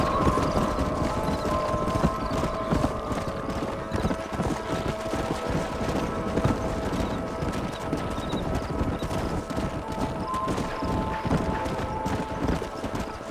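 Steady clip-clop of horse hooves from a group of riders in the Western video game Red Dead Redemption, continuous and fairly close, with an occasional whinny and no talking over it.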